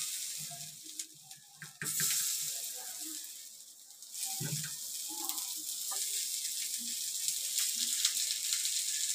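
Mandeli fish frying Malvani style in a pan, a steady broad sizzle that swells after the fish goes in and carries on through the clip, with faint clinks and rustles on top.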